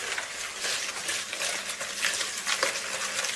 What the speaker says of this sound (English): I'll just give that a quick stir together just to bring the sugar and the lemon together